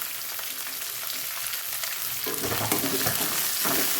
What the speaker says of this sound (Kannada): ಹಸಿಮೆಣಸಿಗೆನ ಸ್ವಲ್ಪ ಫ್ರೈ ಮಾಡ್ತೀನಿ ಎಣ್ಣೆಯಲ್ಲಿ ಫ್ರೈ ಆಗಬೇಕು